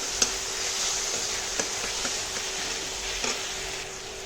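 A spoon stirs chopped onions and tomatoes with salt on a hot tawa, soft steady sizzling under a few sharp scraping clicks, close and fairly quiet, with no talking.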